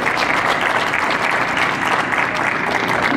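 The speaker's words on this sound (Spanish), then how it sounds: "Fuerte el aplauso." Sustained applause from an audience at a dome handover ceremony for a primary school, a dense steady wash of many hands clapping with no speech over it.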